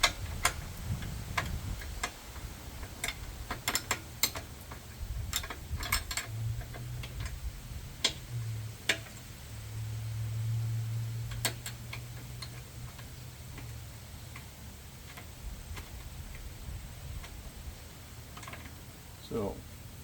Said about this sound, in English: We're going to loosen this side up first. It's an 18 millimeter wrench.